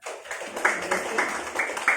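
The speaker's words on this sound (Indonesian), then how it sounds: "Tepuk tangan untuk kita semuanya." Light clapping from a classroom of pupils after a sung song during a teaching lesson, a fairly faint, uneven patter of hands lasting a couple of seconds.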